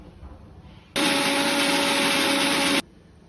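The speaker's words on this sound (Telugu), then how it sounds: "బాగా మిక్సీ పట్టుకోవాలి." A kitchen mixer grinder whirs loudly for about two seconds as it grinds dried red chilies and spices with salt in a jar, a steady high-pitched motor roar that starts and stops abruptly, with no talking.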